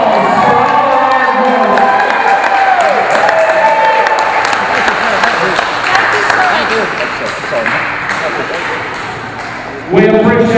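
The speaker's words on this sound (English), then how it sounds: "Give them all a big round of applause for all their hard" A live audience at a community show applauds members of the Restart Center, a loud, dense wash of clapping and cheering that runs the full length and fades slightly near the end before a louder burst.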